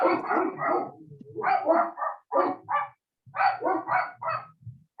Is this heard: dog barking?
yes